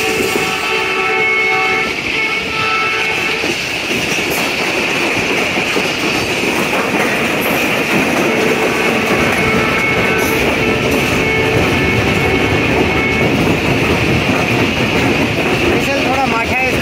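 A ZCU-30 diesel locomotive hauls a passenger train along a Pakistani main line at night, heard as a loud, steady rumble and rattle of wheels and carriages with a sustained engine drone throughout.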